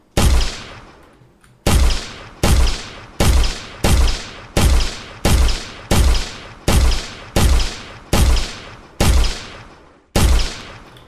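Weapon fire in an Unreal Engine game digging holes in a runtime-editable landscape: twelve loud, evenly spaced booming shots, each with a sharp attack and a decaying tail, repeating about every second with no talk.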